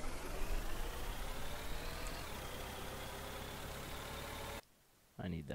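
Video game car engine revving as the accelerator is held down, a steady mid-pitched drone with a gradually rising tone, fairly quiet, cutting out abruptly near the end before briefly returning.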